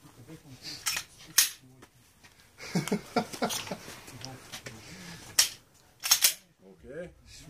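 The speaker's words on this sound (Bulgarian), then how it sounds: "Един изстрел, бавно и спокойно огън." Sharp gunshots fired at a shooting range, several separate cracks spaced through the clip, loud and close, with people talking between and around the shots.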